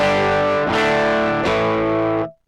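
Electric guitar run through a Thorpe Peacekeeper overdrive pedal and captured as a direct signal, playing three sustained, gritty chords in a row, each ringing out loud and close before the last one is cut off into silence.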